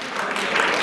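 An audience at a university speakers club drama event applauds in a brief, dense wash of clapping that rises slightly toward the end.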